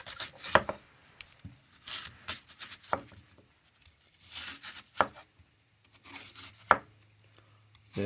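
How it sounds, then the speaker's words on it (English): A Battle Horse Knives Highlander knife, with a blade thicker than 1/8 inch, cuts up oranges in a series of crisp, tearing slices and chops spaced a second or two apart, close and fairly quiet, with no talking. "I like cutting up oranges too"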